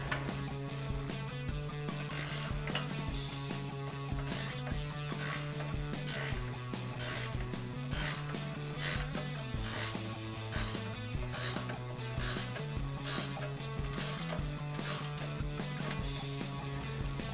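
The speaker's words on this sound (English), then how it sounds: "So now we can get in there with a 21 millimeter ratcheting wrench." Rapid, steady clicking of a 21 millimeter ratcheting wrench being cranked on a RAM 1500 front strut nut, with regular pulses of mechanical rasping running continuously.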